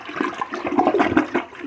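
Water rushes into a toilet tank fitted with a newly installed bidet, a gurgling, sputtering refill close by with uneven surges.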